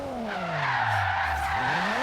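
Car tires squeal in a long, loud skid while drifting in Forza Horizon 3, the pitch sliding down and back up over about two seconds above steady engine noise, with no talk.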